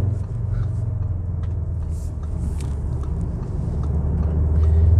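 A 2021 Audi S3 accelerating, its engine a steady muffled rumble heard from inside the cabin, building slightly louder toward the end.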